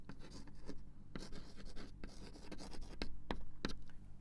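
Someone writes on a board during a French literature lesson on the sonnet, giving a run of scratchy, uneven strokes with short pauses between them, close and fairly quiet.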